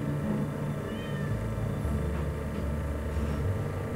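A cat in the Stardew Valley video game meows over a steady low game-music drone, with a couple of brief mewing calls rising faintly above the background.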